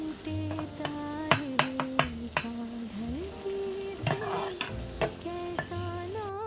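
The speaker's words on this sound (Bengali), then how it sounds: "এবার আমি জল দিয়ে দিচ্ছি" Water poured into a hot frying pan with pomfret fish sets off a close sizzle, punctuated by sharp clicks and taps of a utensil, with a faint tonal background sound running underneath.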